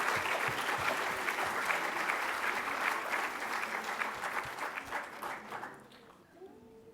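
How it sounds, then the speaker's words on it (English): Audience applauding students at a Post 16 graduation ceremony, a dense, sustained round of clapping from a large crowd that holds steady and then tapers off. "May I now ask to applaud all of our students for their exceptional accomplishments and contributions this year"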